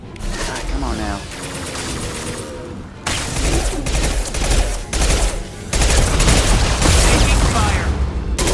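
Rapid gunfire in The Legend of Shepard: Cerberus, dense bursts of automatic shots and booming impacts in loud waves separated by short gaps.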